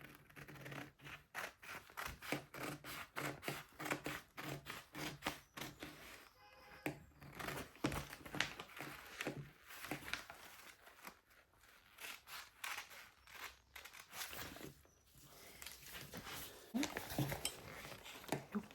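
Scissors cutting fabric for an off-shoulder sleeve, a long run of quick, crisp snips in steady rhythm with a few short pauses, close and fairly quiet, no voices.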